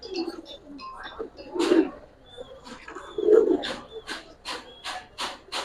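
Pigeons, including Giribaz, silver and khaki breeds, coo in soft, throaty bursts, several overlapping calls repeating close by, with a few faint chirps between.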